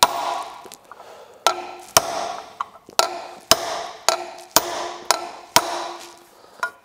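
A hammer strikes a punch set in a broken screw: about ten sharp metallic blows spaced roughly half a second to a second apart, close and loud, with scraping and handling noise between hits.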